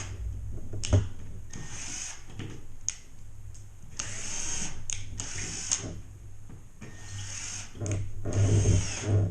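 A power drill drives screws into a drywall ceiling patch during a repair after a plumbing leak, sounding in several short close bursts separated by brief pauses, with a low hum underneath.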